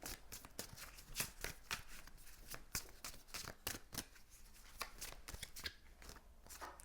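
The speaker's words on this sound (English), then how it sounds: "Hold on, I'm gonna let the cards flow before I begin." Tarot cards are shuffled by hand in rapid, riffling bursts of crisp, papery flicks, close and quiet, continuing steadily with brief gaps.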